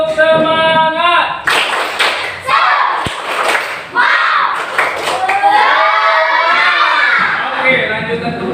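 Children clapping a rhythmic spirit clap in a classroom, with shouted voices mixed in; the clapping comes in short loud bursts and stops, and nearby talk runs underneath.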